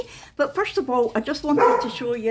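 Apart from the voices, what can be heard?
dogs barking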